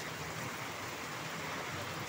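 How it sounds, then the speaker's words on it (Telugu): Heavy rain falling steadily, a constant wash of dense hissing noise that stays level throughout, with nobody speaking. "ఫుల్గా వస్తుంది వాన"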